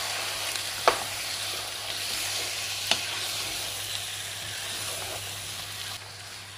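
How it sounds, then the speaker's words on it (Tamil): Mutton sizzles and fries in a pan for a Jaffna-style Sri Lankan curry, a steady close crackle with a couple of sharp clinks as it is stirred. "அது போனதுக்கு பிறகு நாங்கள் இப்போ இந்த ஆட்டிறைச்சியை சேர்த்துக்கலாம். சேர்த்ததுக்கு பிறகு நல்லா இருக்கா கிளறி விடுங்க."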